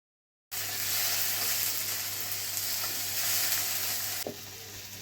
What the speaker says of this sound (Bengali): পেঁয়াজ কাঁচা লঙ্কা ভালো করে ভেজে নেবার পর এর মধ্যে দিয়ে দিল টমেটো কুচি, সাথেই দিয়ে দিল লঙ্কা গুঁড়ো, হলুদ গুঁড়ো, আদা বাটা আর রসুন বাটা।